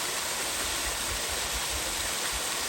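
A waterfall on a remote creek pours in a constant, even rush, a dense steady roar heard alone without voices.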